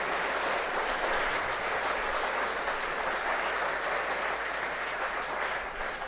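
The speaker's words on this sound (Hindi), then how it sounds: "एक बार जोरदार तालियों के साथ फिर से आपका स्वागत और सम्मान करें।" A seminar audience of rural students claps loudly and steadily in a dense, continuous roar of applause that holds for the whole stretch with no talking over it.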